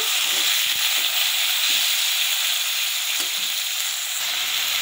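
Chopped onion, tomato and green chili fry together in hot oil, giving a loud, continuous sizzling hiss close by, with occasional soft scrapes and knocks from stirring.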